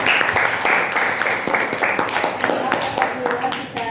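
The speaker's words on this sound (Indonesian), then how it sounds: "Beri aplaus dulu untuk teman-teman." Classmates clap for a group after their presentation in a classroom lesson, with sustained steady applause throughout and voices talking over it.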